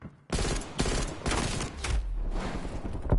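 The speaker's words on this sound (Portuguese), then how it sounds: "Tu és capaz de estar a mandar tiros a um gajo" Call of Duty Cold War gunfire, loud rapid bursts of automatic shots in several dense volleys close up, with no talk.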